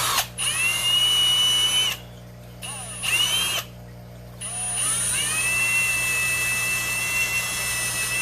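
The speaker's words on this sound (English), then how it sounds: "the drill bit that I was using is a bit small, so we're just going to have to hollow this hole out" A high-pitched power drill enlarging a hole for an aquarium sponge filter whines in several bursts, stopping twice briefly before running steadily again, close and loud.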